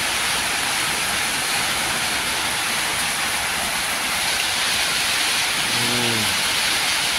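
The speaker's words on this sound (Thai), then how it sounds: "ฝนตกครับ" Heavy early-morning rain pours steadily in front of a house in Thailand in a dense, continuous hiss, with a brief faint tonal call near the end.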